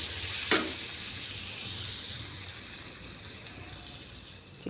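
A curry leaf tempering added to a homestyle chicken curry gives a sharp burst of sizzling as it hits. A bubbling hiss follows and gradually fades.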